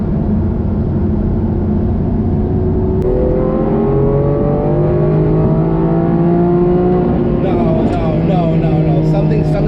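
A Lamborghini SVJ's engine pulls under throttle, its pitch climbing steadily, then dropping at an upshift and climbing again, with a second shift near the end; loud, close and constant inside the cabin.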